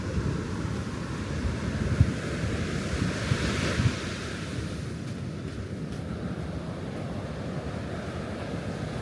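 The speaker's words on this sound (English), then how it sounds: "What do you think of the Pacific Ocean?" Pacific Ocean surf rolls in a continuous wash of breaking waves, loud and close, with gusts of wind buffeting the microphone and no voices.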